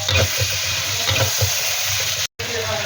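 Ginger garlic paste hitting a hot pan for a prawn masala, a close, busy sizzle and frying crackle with stirring scrapes, broken by a brief gap near the end.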